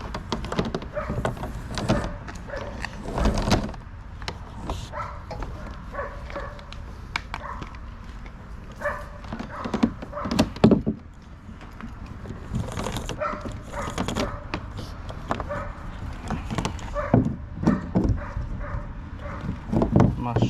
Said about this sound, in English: My shepherd barking in the background